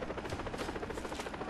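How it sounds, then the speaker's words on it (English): A helicopter in the shooter game Far Cry 3 thrums with a continuous rapid rotor chop under dense game noise, faint and steady. "Do I hear a helicopter behind me?"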